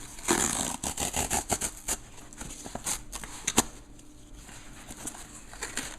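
A cardboard box package is torn and pulled open close by, with a run of rustling, scraping rips and crinkles, busiest early on and trailing off into sparser handling noises.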